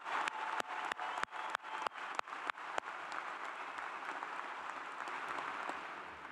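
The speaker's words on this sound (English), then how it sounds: "Will you also please give a big, loud round of applause to Anna Grace" A graduation ceremony audience in a large hall applauds, beginning with a few sharp, separate claps that quickly merge into a sustained, even wash of clapping from a big crowd, heard from a distance.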